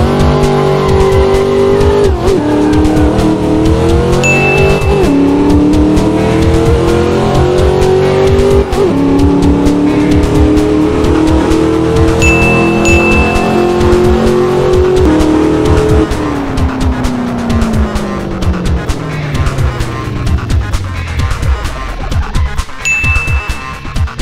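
A Corvette C5 in the Assetto Corsa racing game accelerating hard, its engine note rising through repeated upshifts with brief dips at each change, loud and continuous, then easing off toward the end with no voices.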